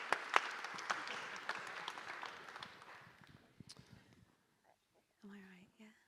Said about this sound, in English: Can we give our volunteers a round of applause?